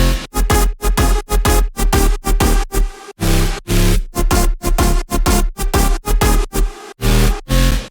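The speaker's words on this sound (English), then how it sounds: "So synths all together sounds like this." Future house synths layered together in FL Studio pump out a punchy, rhythmic pattern of short, chopped stabs with heavy sub bass. The sound is loud and close, with brief gaps between bursts.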